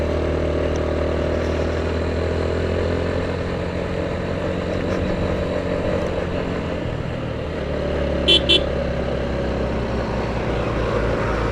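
On the climb to Sajek, a motorcycle stuck in third gear before dropping to second labours with a constant heavy engine drone, loud and unbroken, with a couple of faint ticks late on.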